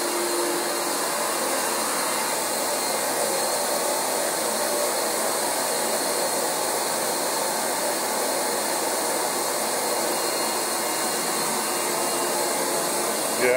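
A Rug Doctor carpet cleaning machine runs steadily on damaged carpet, a loud, constant whirring roar of motor and suction that holds unbroken from start to finish with no talk over it.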